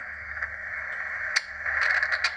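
An SI4732 mini SSB/AM/FM shortwave receiver tuned to a station hums with a steady tone and static, with faint crackles and ticks rising toward the end, close and moderately loud.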